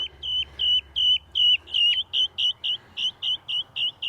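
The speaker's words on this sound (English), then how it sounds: "When they're full-grown birds, they got a lot of oomph behind those chirps." Young guinea fowl give shrill, piercing chirps that repeat rapidly in a steady series, loud and close, each short call sharply clipped.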